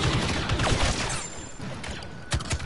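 Blaster fire from the video game Star Wars Battlefront 2 crackles in dense, rapid volleys that overlap into a nearly continuous fusillade, loud and close, with no talking.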